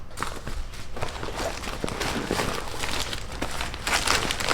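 Plastic bags crinkle and rustle steadily as a survival bag is packed. The crackling is close and continuous, with some dull handling thumps mixed in.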